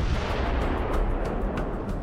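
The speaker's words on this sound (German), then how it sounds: "Die 16 Zoll Kanone konnte 45 Kilometer weit feuern." The 16-inch naval gun of the battleship USS Wisconsin fires in a heavy, rumbling blast that fills the whole short moment, loud and booming with a rolling low-end roar.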